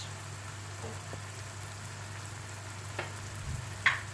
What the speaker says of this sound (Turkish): Kıymamız kavrulurken içerisine bir tatlı kaşığı pul biber